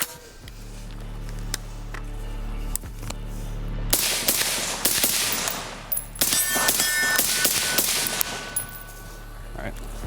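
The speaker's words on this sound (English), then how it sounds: "Drake has the Huxwrx 556K loaded up. So I'm gonna take 5-10 shots with this, just so you can hear it one more time" Suppressed AR-15 shots through a Huxwrx 556K 5.56 suppressor, a series of sharp reports with metallic clangs and ringing, loud and close, spaced irregularly over several seconds.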